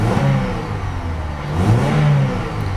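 Engine of a 2010 Chevrolet Cobalt 2LT sedan revving steadily, a continuous mid-pitched hum that swells and eases slightly, heard close and alone with no talking.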